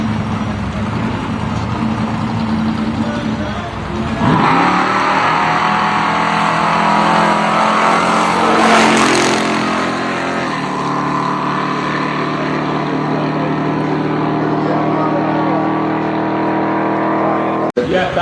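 A drag racing car launches down a no-prep strip at Manston, its engine roaring up into a loud, rising howl that swells and then holds as it pulls away, with spectators talking throughout.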